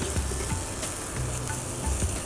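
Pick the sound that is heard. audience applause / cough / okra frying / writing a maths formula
okra frying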